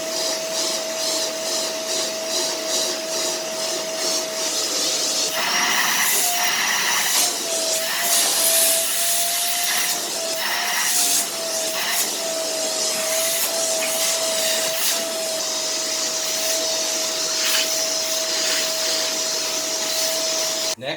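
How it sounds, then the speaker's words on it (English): A vacuum cleaner runs steadily and loud, cleaning the HEPA filter of a Renpho air purifier that has caught cat hair, its motor whine holding a constant pitch with brief shifts as the nozzle moves over the filter. "So what you want to do is get your vacuum cleaner"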